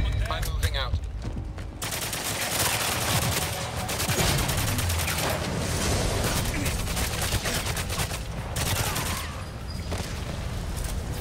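Continuous busy gunfire in GoldenEye Reloaded, overlapping bursts and shots that run almost the whole time at a dense, loud level, with voices mixed in.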